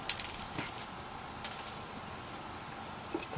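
Small metallic clicks and scrapes come from screws being worked out of the cover of a 15000 RPM Seagate enterprise SAS hard drive, faint and sparse, scattered over a few seconds.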